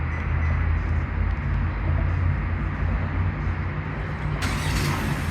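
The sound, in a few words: 2025 Hyundai Santa Fe engine running after remote start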